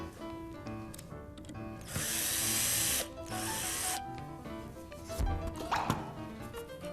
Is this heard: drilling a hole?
yes